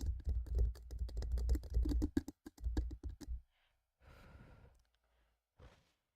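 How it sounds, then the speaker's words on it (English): Crisp fingertip tapping in an ASMR stream, fast irregular clicks for about three seconds, close to the microphone, then breathy sighs and soft breathing in near silence. "everyone like the taps"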